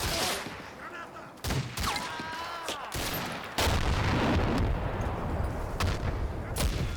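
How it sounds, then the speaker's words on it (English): Mortars fire for effect on cliff-top defenses in the WWII game Combat Mission: Fortress Italy, a rapid sequence of sharp reports and booms with a heavy rumbling barrage building near the end. "My mortars begin firing for effect at the top of the West Cliff defenses."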